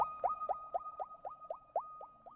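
The accent one-shot called Abby, from the Immortal one-shot kit, run through Valhalla Supermassive delay: quiet, pitched plucks repeat roughly four times a second over a faint sustained tone, echoing evenly.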